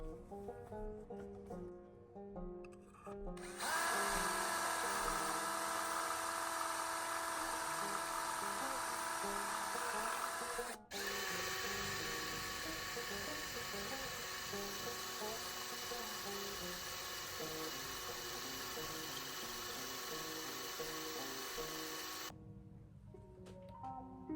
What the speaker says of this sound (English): I'm gonna drill a size smaller and then upsize it by hand